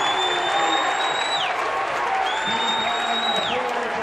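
A home crowd at a high school boys basketball semifinal cheers and applauds a made three-pointer, a loud sustained roar as a commentator talks over it.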